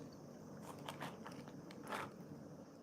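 A Japanese convenience-store snack, soy sauce flavoured from Kyushu, is bitten into with faint, close crunches and a few crackly chews over a low background hiss, without speech.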